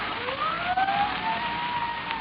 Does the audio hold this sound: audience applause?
no